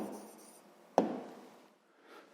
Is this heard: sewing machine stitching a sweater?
no